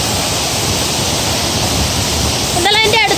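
The Eerattumukku waterfall at Thusharagiri roars as a loud, steady wash of falling water close by, with a voice briefly speaking over it near the end.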